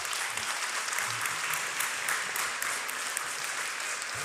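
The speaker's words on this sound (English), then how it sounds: "How about giving them a round of applause" An audience at an elementary school graduation claps steadily, a dense continuous wash of applause from many hands, fairly close and even throughout.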